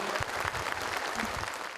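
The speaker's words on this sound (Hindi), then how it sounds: "कृपया जोरदार तालियों के साथ स्वागत" Audience applause at a Hindi stage event welcoming a speaker, a steady wash of many hands clapping close and full for the whole moment, with no voices over it.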